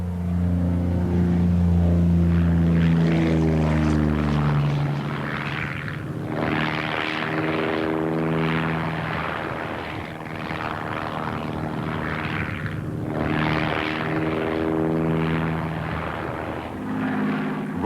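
A de Havilland Chipmunk piston-engined propeller aircraft drones steadily in flight, its engine note loud and continuous with harmonic tones shifting in pitch as the engine is throttled.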